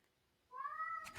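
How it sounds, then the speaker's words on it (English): A cat meows from somewhere below, calling out in one drawn-out, fairly close cry that rises and holds before breaking off, heard alone with no talk. "Sorry if you hear my cat. She's down there calling me."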